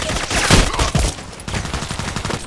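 Rapid shotgun blasts in the video game Contract Wars, several loud close shots in quick succession with a dense crackle of gunfire filling the short stretch.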